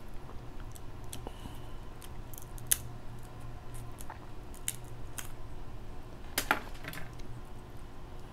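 Scissors snip and crunch through king and snow crab shell at close range, a quiet scatter of sharp clicks and cracks with soft shell rattles over a low background hum.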